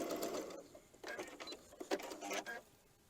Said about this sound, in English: And I'm going to sew this.